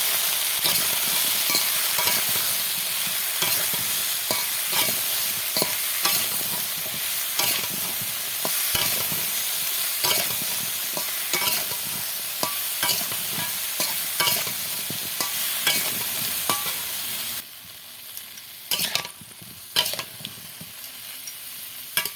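Vegetables sizzle loudly in a pan as salt, turmeric and green chilli are stirred through, with constant scraping strokes; the frying drops quieter near the end, and no one speaks.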